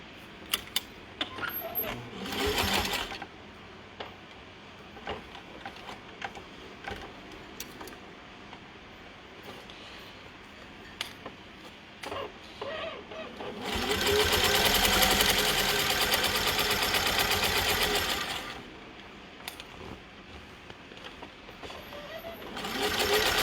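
A sewing machine stitches fabric pushed under its presser foot, running in two distinct bursts, a short one early and a longer steady whir later, separated by quiet handling clicks.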